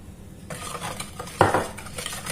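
Marble cake batter being mixed by hand after oil is added, with several wet slapping, scraping strokes of a utensil against a bowl, close and fairly soft, one stroke louder midway, no talking.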